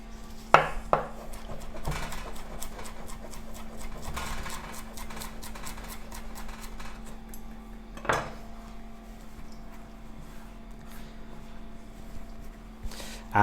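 A kitchen knife runs quickly through five or six sage leaves on a board, giving sharp, regular taps and chops with a few louder knocks, close and clear over a faint steady hum.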